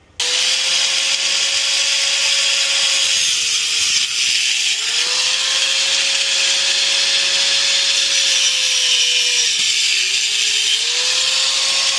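An angle grinder cuts through a seized exhaust nut on a Buick Encore resonator pipe, a loud, continuous high-pitched grind close by, its tone sagging twice as the blade bites harder into the metal.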